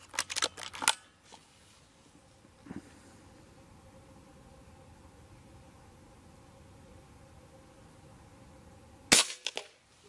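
A Reximex Zone 5.5 PCP air rifle fires sharp, close cracks at the start followed by quiet, then another loud snapping shot near the end.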